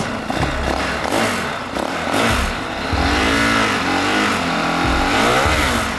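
Turbocharged dirt bike engine revving hard and continuously, with rising and falling pitch sweeps and a harsh mechanical rasp, loud and close with no talk.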